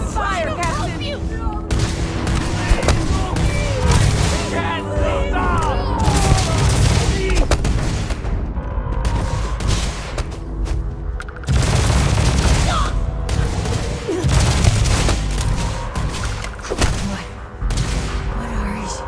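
EM weapons firing during a Starfield video game battle, loud sustained bursts of gunfire and booming impacts across the whole stretch, with voices shouting over the fighting.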